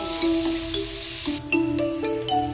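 Curry leaves, cumin seeds, coriander seeds and urad dal crackling and sizzling in a hot pan, a soft continuous fry with a few light clinks of a spoon against the metal.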